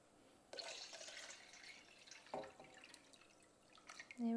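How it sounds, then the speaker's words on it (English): A litre of water is poured into a pot to make warm brine for pickling cucumbers: a soft splashing stream starts after half a second and runs on with dripping, faint and close, with no talk. "1 litre of water going in."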